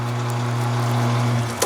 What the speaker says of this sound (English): we're only going to run it quickly. Let's see, it's 300 RPM.